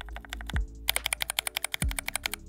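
Typing on overlubed mechanical keyboard switches, a quick run of soft, muted keystrokes in close succession, clear and near, with a couple of low thuds among them.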